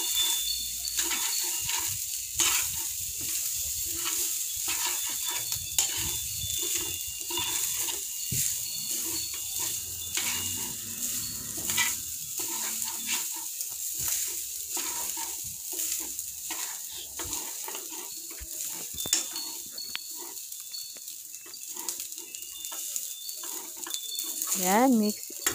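Yang Chow fried rice being stir-fried in a pan over low heat gives a steady, close sizzle with irregular scraping and stirring clatter throughout, without a break.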